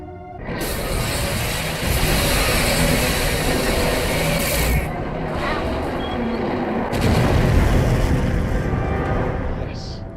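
Automatic weapons fire in a Stargate Atlantis battle scene, a loud, dense, continuous roar of rapid shots and booms that swells in places and runs unbroken for the whole stretch, with voices buried in the din.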